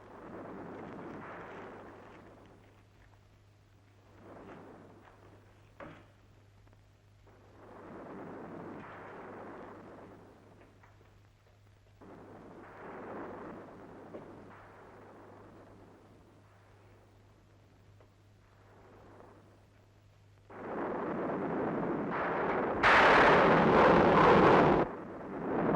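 A thunderstorm in a scene from the 1966 Hindi drama film Insaaf. Soft, muffled passages over a steady low hum build to a loud, sustained rumbling crash near the end.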